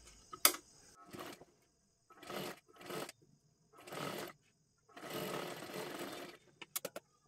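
Short separate bursts of a sewing machine stitching a sleeve with a double row of stitches, each run close and brief with silent gaps, plus a few small clicks at the end.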